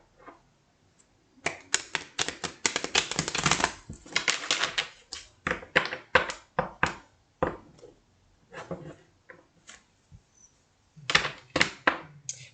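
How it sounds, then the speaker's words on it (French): Oracle cards being shuffled and drawn, close crisp bursts of riffling and snapping card slaps in irregular clusters with short pauses between them, a soft voice occasionally present. "Je vais vous tirer 3 cartes avec l'oracle des miroirs."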